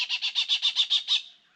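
A bird in the Kakadu wilderness gives a fast run of about nine identical squawking notes in steady rhythm, loud and close, then falls silent.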